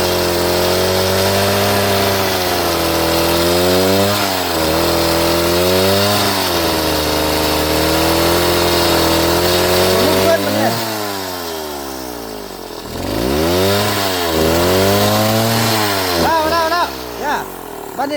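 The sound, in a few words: chainsaw cutting wood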